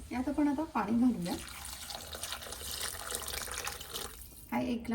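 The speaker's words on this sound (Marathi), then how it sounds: "यात आपण आता पाणी घालूया." Water is poured into a cooking pan, making a gushing, splashing flow between short bursts of talk at the start and end.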